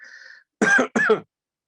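Two quick, sharp coughs in close succession, heard up close after a short electronic tone.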